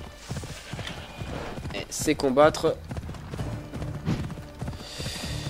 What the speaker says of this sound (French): On va appeler le cheval pour aller un peu plus vite.